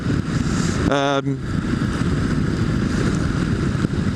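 Motorcycle engine in sport mode responding sharply to the throttle, a steady broadband road rumble with a brief rising harmonic whine near the start, close and loud throughout.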